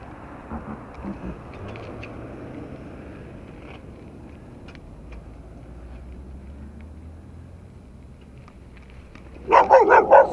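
A dog barks in several close, loud bursts near the end, after a long stretch of low rumbling vehicle noise on a muddy road leading to a forest and bridge.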